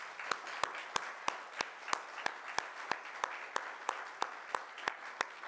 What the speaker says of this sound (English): First, we want to give you a round of applause this morning.